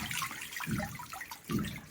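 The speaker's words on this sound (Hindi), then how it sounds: "साग को धो लेते हैं।" Amaranth greens being washed by hand in water in a large vessel, with close, quiet sloshing and splashing in soft repeated surges.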